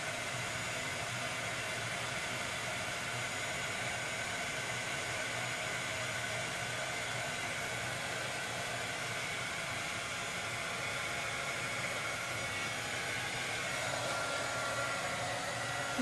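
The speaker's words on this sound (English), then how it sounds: "little heat gun." A small heat gun blows continuously on poured paint across a coffee table top, a steady close-up rushing roar of air with a faint whine that never lets up.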